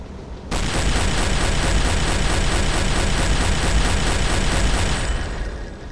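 A U-boat deck gun in Silent Hunter 3 with the GWX mod pounds a ship in rapid, evenly paced shots. The loud firing runs continuously for about five seconds before easing off, with no talking.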